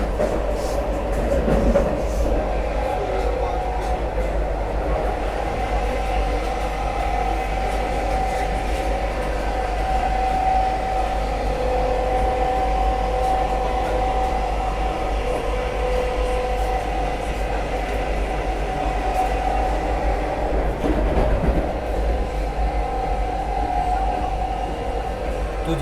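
Onboard sound of the Vande Bharat Express running from Katra to Srinagar, a steady, loud rumble of the rail car rolling along the track, with a continuous hum and faint wheel noise throughout and no talking.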